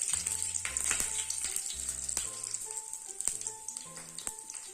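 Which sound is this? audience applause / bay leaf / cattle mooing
bay leaf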